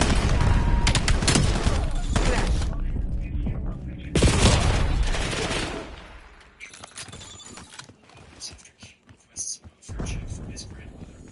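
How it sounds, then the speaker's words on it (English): A Semtex grenade goes off in Call of Duty Warzone on Rebirth Island. Loud explosive blasts and rattling gunfire arrive in bursts, then fade into scattered quieter shots and debris, with game voice lines mixed in. "Incoming Semtex."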